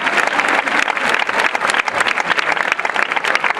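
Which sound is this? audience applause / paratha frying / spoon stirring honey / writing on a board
audience applause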